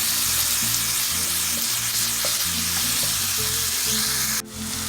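Ground beef mixture is stirred in a hot frying pan for carne con papas, giving a steady loud sizzle with scraping spoon strokes throughout, easing slightly at the very end.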